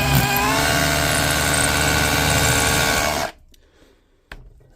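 A Dewalt SDS drill running after repair, a loud steady motor whine with rattling hammer buzz for about three seconds, then cutting off, followed by a brief click.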